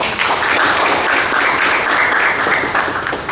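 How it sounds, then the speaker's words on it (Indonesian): Sustained audience applause at a graduation ceremony for a senior lecturer, a dense steady wash of many clapping hands at full loudness, easing slightly near the end. "Tepuk tangan buat beliau."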